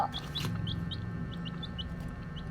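Chicks peep repeatedly in short, high chirps at a steady rhythm, close by, over a low background rumble.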